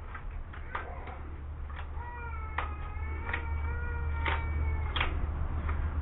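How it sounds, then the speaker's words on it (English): Young child crying in the background of a home garden scene, a series of faint, repeated wailing cries with rising harmonic tones over a steady low hum. "You can hear my granddaughter crying in the background."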